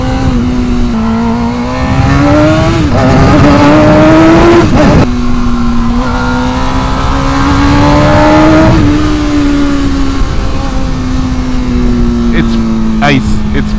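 Motorcycle ridden at speed, its engine droning loud and steady with several rising revs as it accelerates, close up, with wind noise and a rider talking over it.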